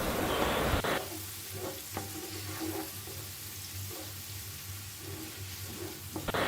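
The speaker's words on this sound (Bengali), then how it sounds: "তো পেঁয়াজটাকে এখন আমরা সুন্দর করে কিছুক্ষণ একটু এভাবে ভেজে নিব।" Chopped onions and a bay leaf fry in hot oil in a pan for dum biryani, a loud burst of sizzle at the start settling into a steady, quieter hiss with a few soft stirring knocks.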